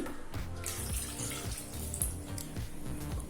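Water pouring into a pan of cut elephant foot yam pieces for cooking, a continuous close splashing and trickling stream with no talking.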